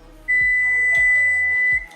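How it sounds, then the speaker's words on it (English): A kitchen oven timer signals that baked chicken is done. It gives one sustained, high electronic beep of about a second and a half, close and clear, with faint clunks around it. "So y'all hear the timer. The chicken is finally done."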